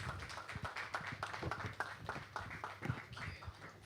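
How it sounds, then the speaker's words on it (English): Audience applause for a speaker coming to the stage: steady, fairly faint clapping from a crowd, continuous with scattered sharper hand claps and no talk over it. "let's keep the applause going as she comes to the stage"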